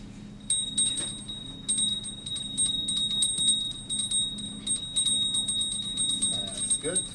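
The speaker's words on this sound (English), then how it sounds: "You have to ring the bell on the left hand." A hand bell rings repeatedly in clear, bright strokes at an uneven pace, close by and fairly steady, over a low room hum, during a youth gathering.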